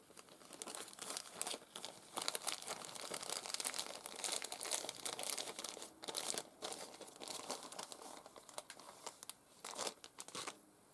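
A small plastic bag of lace trims crinkles and rustles in close, busy handling, with steady crackly bursts and brief tearing-like scrunches throughout, no talking.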